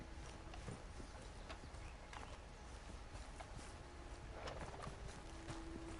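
A ridden horse's hooves clip-clop at a steady walking rhythm while travelling through the New Austin area of a video game. The hoofbeats are continuous and moderately close, with no talking.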